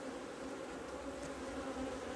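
Honeybees swarm thickly over a brood frame pulled from an open hive, giving a steady, close, dense buzzing drone that holds level throughout with no voices.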